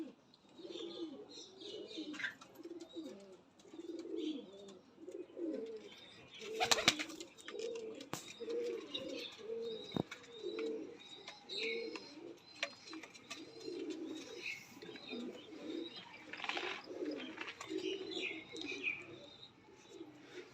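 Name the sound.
pigeons cooing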